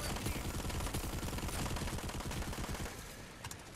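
Rapid automatic gunfire from a weapon in Planetside 2, a dense, steady burst of shots close and loud for most of the stretch before tapering off near the end.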